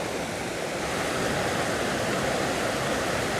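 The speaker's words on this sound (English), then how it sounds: "And we've got the water flowing quite nicely." Water flows steadily over a waterfall in an autumn landscape, a loud, close, continuous rushing with no pauses.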